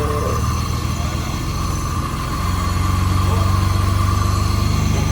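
Mercedes W126 280SE petrol engine catching and rising into a steady idle after sitting unused for ten years, loud and close, with the rhythm settling halfway through.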